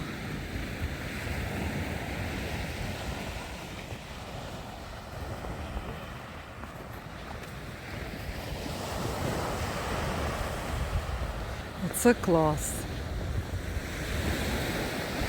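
Sea waves wash steadily on the snowy Odesa shore after a blizzard, with wind buffeting the microphone throughout; a brief spoken remark and a short sharp sound break in near the end.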